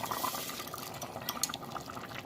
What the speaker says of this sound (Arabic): غادي ان شاء الله نضيف دابا العدس ديالي